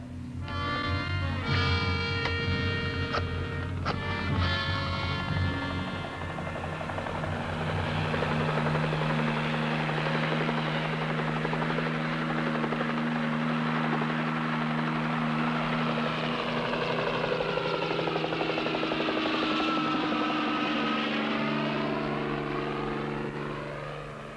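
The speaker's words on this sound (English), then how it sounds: "I think we should send a chopper up there" A helicopter flies overhead, its rotor drone rising and then fading as it passes, loud and steady for the whole stretch.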